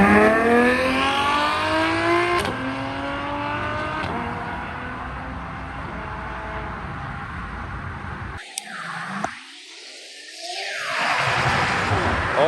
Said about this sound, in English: Got the first Supercar leaving.